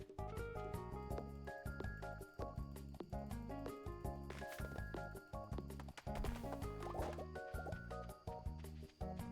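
Plants being watered in a video game greenhouse: soft liquid splashes and drips, with a couple of brief pouring bursts, sit under steady, busy game music.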